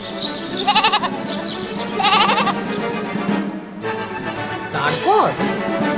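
Goat bleats in a Bengali comedy audio drama, several wavering cries in short bursts, loud and close over a background of voices and faint scene noise.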